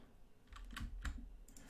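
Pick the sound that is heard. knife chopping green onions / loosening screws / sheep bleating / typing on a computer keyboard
typing on a computer keyboard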